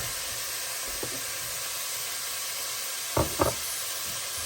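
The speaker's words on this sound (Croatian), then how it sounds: "I malo sada propržimo ovaj beli luk." Garlic frying with chard in a pan makes a steady hiss and sizzle close by, with a few brief knocks of stirring toward the end and no talk.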